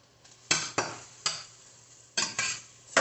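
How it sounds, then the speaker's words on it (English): A spoon scrapes through chicken and broccoli in sauce in a pan, making six or seven distinct close strokes in an uneven rhythm with quiet pauses between them. "Give that a good stir again."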